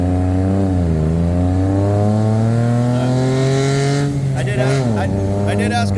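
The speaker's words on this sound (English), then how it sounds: "Oh, we're in the tuk-tuk." A tuk-tuk engine drones loud and close while driving in Bangkok, its pitch climbing and sliding as it revs, with a brief voice over the engine near the end.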